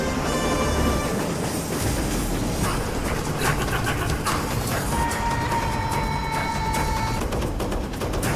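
Train rolling along rails in an Indian crime film scene, a steady dense rumble with wheel clatter running throughout and a sustained high squeal near the middle, loud and continuous with no talk.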